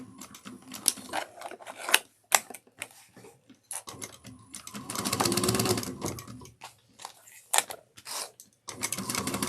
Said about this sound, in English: So we're gonna do this top stitching at 1/8 of an inch all the way around